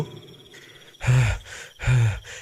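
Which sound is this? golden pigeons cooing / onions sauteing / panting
panting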